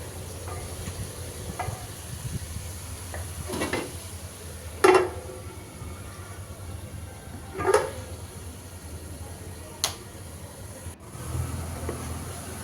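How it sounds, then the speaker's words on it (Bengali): Sweet pumpkin stir-frying in a pan on a home stove: a low, steady sizzle under soft scraping strokes of a spatula, with a few louder clinks against the pan, close and unaccompanied by talk. "নেড়ে চেড়ে মিষ্টি কুমড়ো এখন ভাজিটা করে নিব।"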